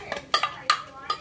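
A spoon scrapes and clinks rhythmically against a pan, stirring a frying paste of onion, ginger, garlic, poppy seeds and coconut for mutton curry. Four quick close strokes sound over a faint background sizzle.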